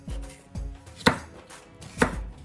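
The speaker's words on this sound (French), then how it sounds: "On va les couper bien fins." A knife finely chops red bell pepper on a cutting board in a slow, regular series of close, crisp thuds, with two sharper, louder strikes standing out, and no voices.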